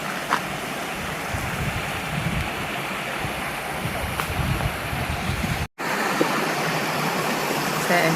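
Goyt River rushes steadily through the rocky gorge by the New Mills Millennium Walkway at Torrs Riverside Park, a loud, constant broadband roar of flowing water with a momentary dropout near the end.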